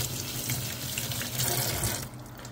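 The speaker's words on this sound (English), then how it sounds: "Let's wash them off." Harvested tomatoes being washed under a running kitchen tap: a steady, close rush of water splashing into a sink with no break, with no one talking, until the flow softens near the end.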